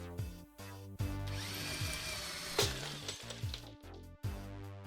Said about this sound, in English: Oh, the drill.